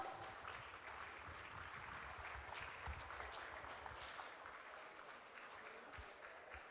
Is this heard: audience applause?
yes